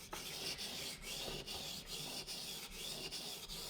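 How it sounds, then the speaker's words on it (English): A bushcraft knife blade rubs back and forth across the coarse 400 grit side of a sharpening stone in steady, evenly spaced strokes, close and fairly quiet, with no voices. "If your knife is the first sharpening or has a bunch of dings in it on the 400 grit side, you can push fairly hard"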